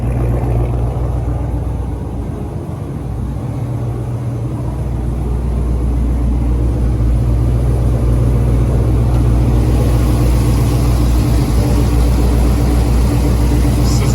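A Mopar muscle car engine idles with a steady, deep, low rumble, loud and close, holding an even drone throughout with no voices.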